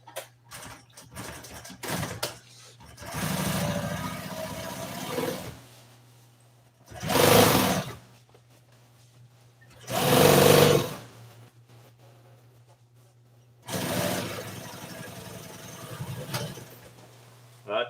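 A sewing machine stitching an aftermarket car seat cover, running in several separate bursts of one to two seconds each, with quiet pauses between runs.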